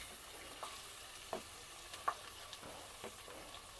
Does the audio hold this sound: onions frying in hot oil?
yes